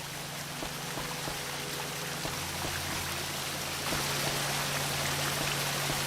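Water pours steadily from a barrel in the adventure game Jack Keane, a continuous rushing trickle that grows slightly louder partway through, with a low hum underneath and no voices.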